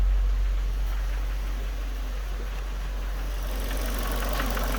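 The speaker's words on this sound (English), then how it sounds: "this bit of a knock on the engine" A Vauxhall Meriva VXR engine idling steadily with a slight knock, a constant close mechanical drone with hiss and no voices.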